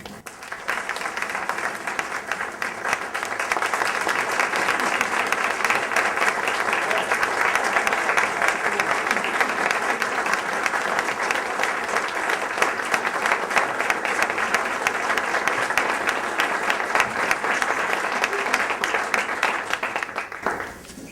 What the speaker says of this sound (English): Now, Ruth and Susan, now all of that applause doesn't count toward my 5 minutes, does it?